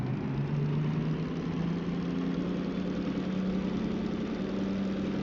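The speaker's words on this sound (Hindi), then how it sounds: "अपना इंजन चलने लगा, ठीक। अभी ये सिर्फ चल रहा है, ये फ्री रोल हो रहा है, गियर इंगेज हो गया" The DM3 locomotive engine in Derail Valley runs steadily, a continuous low, rumbling drone at even volume throughout with a faint rising tone, close and alone with no talking.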